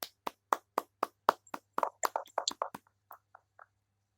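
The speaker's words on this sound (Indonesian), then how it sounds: "Kita berikan tepuk tangan untuk 2 kelompok ini." A small classroom group claps for two student teams, starting with a few evenly spaced, sharp, close hand claps and then breaking into a brief, uneven patter that thins out and stops.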